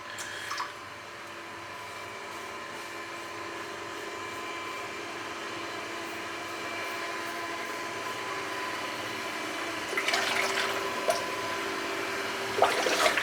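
Running tap water rinses a Karve Overlander safety razor, a steady hiss that continues throughout, with brief splashy bursts near the end as the razor moves under the stream.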